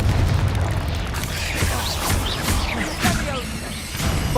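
Confringo fire spells exploding in the Hogwarts Legacy video game, a series of booming blasts and crackling bursts over a dense, constant game soundscape, with a voice speaking between them.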